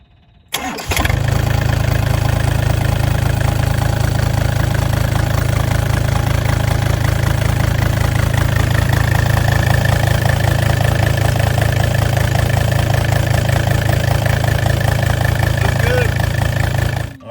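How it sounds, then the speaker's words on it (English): A Takeuchi TB135 excavator's engine starts up and then runs at a steady, loud, close idle with a constant low drone. "So we ran the excavator, got it up to operating temperature"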